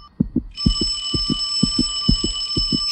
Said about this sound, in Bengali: হঠাৎ প্রচন্ড শব্দে হাতের ফোনটা